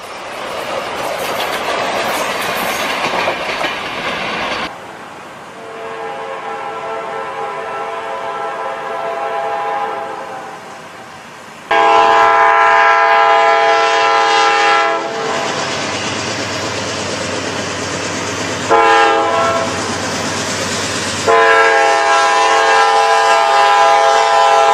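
Long double-stack container freight train with seven locomotives and 139 wagons rolls past nearby, loud and continuous, with blaring multi-tone horn blasts repeating through the passage and a steady rumble beneath.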